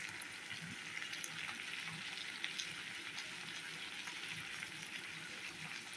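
Prawns added to a pan of ridge gourd and potato frying, a soft steady sizzle with light stirring clatter, faint and continuous, no talk.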